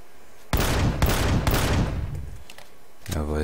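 A quick rapid string of gunshots fired at an object in Empyrion Galactic Survival, loud and close, lasting about two seconds before a short tonal sound at the end.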